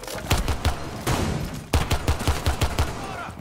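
Rapid pistol shots ring out in a first-person shooter video game, about a dozen sharp cracks in uneven quick bursts, loud and close, with no talking over them.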